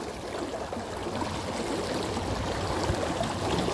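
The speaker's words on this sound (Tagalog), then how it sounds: "Malakas talaga yung agos dito" A strong river current rushes past at a spot where a fishing net is to be hauled across, a dense, continuous roar of flowing water that is steady and close, with no voices.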